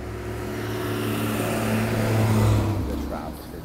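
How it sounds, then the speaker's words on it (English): Loud street traffic rumbles nearby in Venezuela, with engines of vehicles lacking mufflers droning and swelling as they pass, a steady low roar throughout. "The traffic, the noise. Mufflers are optional in Venezuela."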